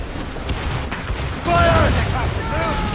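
Musket volley fire in the Assassin's Creed Rogue video game, a broad booming burst of gunfire that swells midway and lingers, with shouted voices and game music tones over it.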